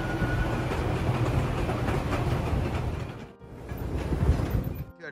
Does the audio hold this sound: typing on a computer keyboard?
no